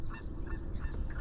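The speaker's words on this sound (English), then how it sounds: "Got some geese working us." Geese honking overhead during a hunt, a brief burst of several nasal honks over a rumbling, windy outdoor background.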